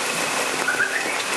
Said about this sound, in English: It's just a basic 15 minutes rain,